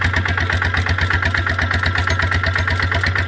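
A small farm machine engine runs steadily up close, a low chugging idle with a rapid, even pulse and no voices.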